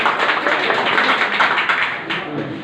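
Dense, steady applause from an audience at a committee meeting of an OBC community organisation, many hands clapping continuously and fairly loud throughout, with a murmur of voices mixed underneath.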